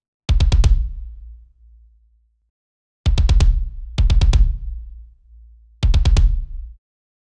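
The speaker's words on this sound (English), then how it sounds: "The second kick track is from analog hybrid drums." A kick drum track from Analog Hybrid Drums plays short bursts of four fast, punchy hits. Each burst leaves a low ringing tail, and silent gaps separate the bursts.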